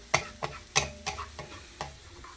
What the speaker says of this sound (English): I want to saute this until it starts turning a little brown